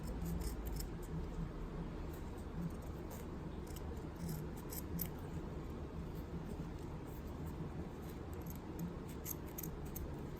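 Scissors snipping the end of a braided three-colour ribbon lei, a few faint, quick cuts over a quiet background hiss.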